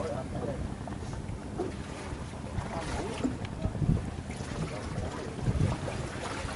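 A small boat motors along a river in the Mekong Delta, its steady engine drone and water wash running constantly under wind noise, with a few brief knocks and voices nearby.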